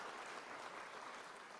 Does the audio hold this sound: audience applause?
yes